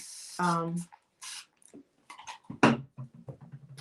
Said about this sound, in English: I'm just going to take some of this in here and spray it with a little water.